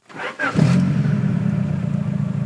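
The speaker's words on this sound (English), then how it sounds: "let me turn it on. It's been a hot minute since you guys have heard this car." A car engine cranks briefly, catches, and settles into a steady, close idle with a low rumble and slight rhythmic pulsing.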